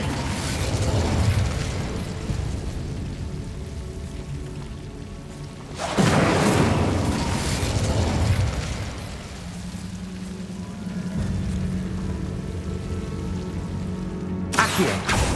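A fire spell cast in Hogwarts Legacy sets off a loud whooshing burst around six seconds in, over a steady crackling, rain-like rumble, with another sharp burst near the end.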